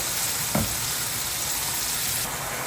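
Spice mix with tomatoes frying in a pan, a steady broadband sizzle throughout with one brief scrape of a spoon early on, close and fairly loud, no voices.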